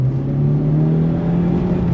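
A Renault 5 GT Turbo hot hatch pulls hard in second gear, its engine a loud, close, steady drone that climbs gradually in pitch as it accelerates.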